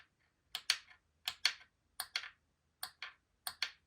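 A tissue blade slices small pieces of polymer clay on a hard surface, making crisp close paired clicks and taps, about five cuts spaced evenly in quiet surroundings.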